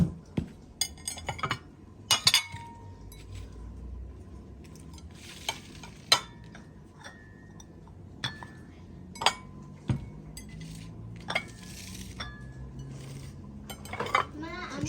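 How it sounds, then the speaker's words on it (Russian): Tableware dishes clink and clatter as they are laid out, giving sharp irregular knocks and chimes of porcelain and cutlery spread across a quiet room, close and distinct. "Очень хорошая, красивая посуда."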